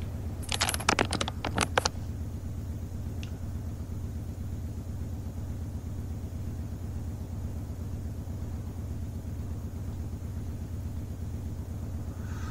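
A few quick keystrokes on a computer keyboard, a short cluster of close, crisp clicks near the start over a constant low engine-like rumble, which then carries on alone.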